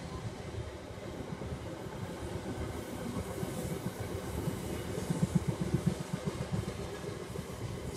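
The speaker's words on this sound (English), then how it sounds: "Yeah, Class 66 Freight. It's the bin train." A Class 66 diesel freight train rolls past at Longlands Junction, a steady rumble of wagons with rhythmic clickety-clack over rail joints, heard from a moderate distance.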